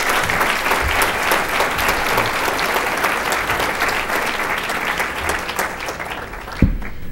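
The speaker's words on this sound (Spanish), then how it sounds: "lo recibimos con un fuerte aplauso" A lecture audience gives a speaker a warm welcoming round of applause. The clapping is sustained and full throughout, then drops off with a brief thump near the end.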